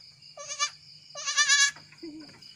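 A kacang goat, a native Indonesian breed, gives two loud, wavering bleats close to the listener, followed by a softer, shorter call. A faint low hum sits underneath.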